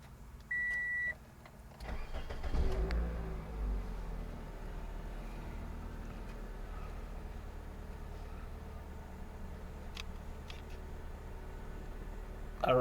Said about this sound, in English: Let's go start the car and see what we're gonna have.